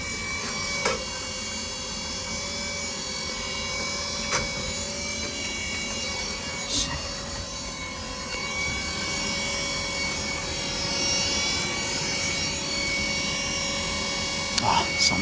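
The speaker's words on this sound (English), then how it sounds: "Oh, something's hitting that blower." The blower of a Takagi tankless water heater hums and wheezes steadily while a loose paper tag catches in it, adding faint intermittent ticks and rubbing over the continuous mechanical drone.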